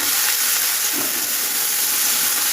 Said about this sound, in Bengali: পেঁয়াজটা একটু ভালোভাবে ভেজে নেব টমেটো কুচি ভালো করে ভেজে নেব